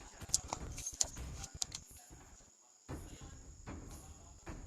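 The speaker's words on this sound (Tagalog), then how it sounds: "Kuliglig lang yun, yung ugong." Crickets hum in a steady, high, continuous drone that runs through the whole stretch, with scattered clicks and low knocks in the foreground.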